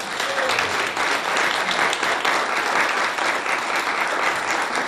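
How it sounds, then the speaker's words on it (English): An audience at a creative economy panel gathering applauds the panelists, a steady wash of many hands clapping at moderate loudness, continuous and fairly even for several seconds. "I want to just give a quick round of applause to our panelists."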